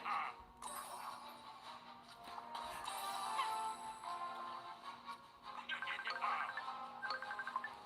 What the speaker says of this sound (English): No, I can't answer the phone.